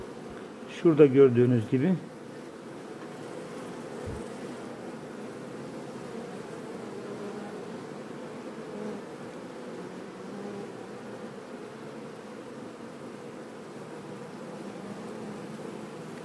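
Honeybees with their queen drone in a beehive, a close, steady buzz that runs throughout, with a brief louder burst near the start and someone speaking softly over it.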